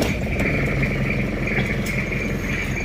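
Toyota Kijang diesel engine running at idle, a steady loud rough clatter with a continuous mechanical whine above it and no pauses.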